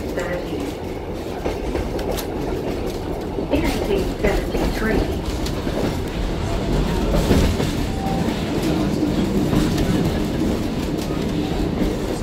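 Historic Kuranda train with century-old carriages, some from the 1930s Sunshine Express, rolling along the rails: a steady loud rumble with rhythmic clickety-clack throughout, while a narrator speaks over it.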